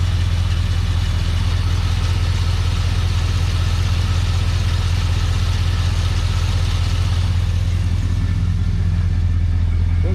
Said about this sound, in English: I like the sound of the exhaust that the guy put on it for us.